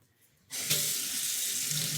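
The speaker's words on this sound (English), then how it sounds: "So we wanna rinse with clean water." Tap water gushes steadily into a sink to rinse a dirty stencil brush, starting abruptly after a brief quiet moment and running loud and close without pause.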